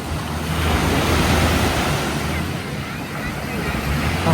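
Strong wind roars steadily at a hilltop viewpoint in Krabi, reached by many steps, buffeting the microphone loudly and continuously throughout.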